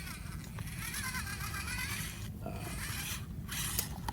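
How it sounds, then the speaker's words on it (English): A small leaf blower runs steadily in the background at an outdoor rock crawling course, giving a continuous broadband whoosh and hum with faint mechanical rattles on top. "the little blower in the background"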